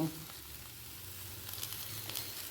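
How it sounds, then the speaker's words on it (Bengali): Soybean chunks and potatoes fry in hot oil, giving a steady, quiet sizzle and crackle that carries on throughout with a few brighter spits toward the end. "এর মধ্যে আমি আরও একটু তেল দিয়ে দিচ্ছি এই কারণে একই সাথে আমি সোয়াবিনটা ভেজে নেব"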